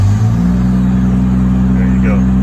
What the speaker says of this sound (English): If I turn the truck on